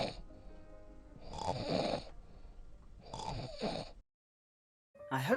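A narrator's voice imitates the Gruffalo snoring in a bedtime read-aloud, giving two long, loud, rasping snores followed by silence and the start of a third.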